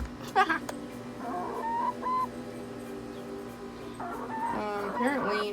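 A chicken clucks and murmurs close by in a sandy chicken run, several short throaty calls in two bursts separated by a quiet pause.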